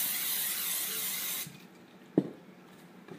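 Cooking spray hisses onto a small pan in a steady broadband burst lasting about a second and a half, then cuts off, followed by a single soft knock in a quiet kitchen.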